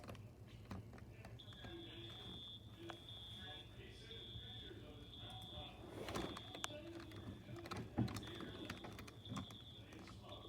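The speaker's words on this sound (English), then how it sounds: "What is with this fire alarm?" A Home Depot fire alarm in a video game gives a steady high electronic tone, holding for several seconds with short breaks, under clicks and thumps of game play at a fairly low level.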